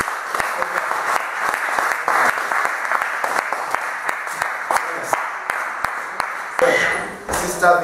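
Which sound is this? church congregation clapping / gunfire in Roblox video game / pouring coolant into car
church congregation clapping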